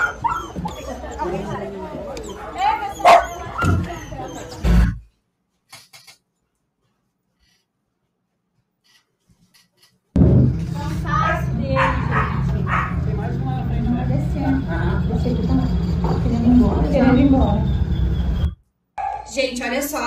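Rescued pitbulls sheltered after the Rio Grande do Sul floods bark and yip in bursts, close and fairly loud, mixed with people talking, with a silent gap midway.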